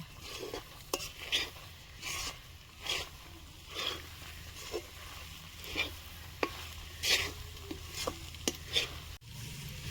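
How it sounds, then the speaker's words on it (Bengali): Sesame seeds, raisins and other laddu ingredients are stirred in a pan, giving soft, irregular scraping strokes and light clinks of a utensil at a quiet, close distance with a faint steady background hiss. "এখন আমি নাড়ি দেব।"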